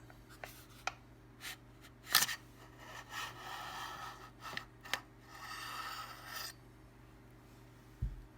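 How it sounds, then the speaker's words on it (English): Scraping, clicking and sliding handling sounds as the slider forearm and bolt come off a CZ 612 12-gauge shotgun during a field strip, quiet and close, with scattered sharp clicks and no speech. "we'll just take our slider forearm off, and our bolt should come out with it"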